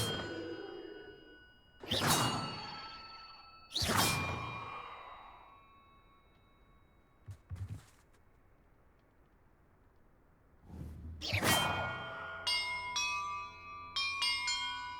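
Large bells ring in a puzzle in the Hogwarts Legacy video game, with three loud clanging strikes that each ring out and decay, then softer chimes and a brief swoosh between them. No voices.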